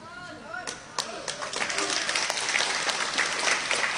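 Audience applause builds from scattered claps into a steady, full round of clapping, with a voice speaking over it at the start.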